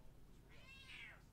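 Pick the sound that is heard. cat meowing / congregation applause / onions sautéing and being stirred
cat meowing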